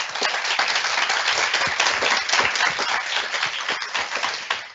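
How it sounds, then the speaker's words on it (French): An audience applauds its speakers at a French conference on responsible marketing, a steady burst of many hands clapping close and loud for about five seconds with no talk over it. "je vous propose qu'on applaudisse nos intervenants."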